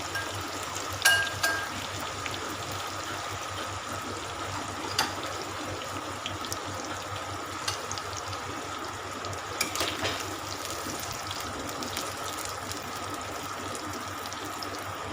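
Soya chunks coated in corn starch fry in hot oil, a faint, steady hiss with scattered small pops and crackles, no speech.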